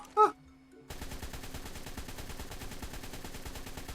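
Rapid automatic gunfire rattles in a fast, continuous stream during a fight in the video game ARK, preceded by a short high cry and a brief pause.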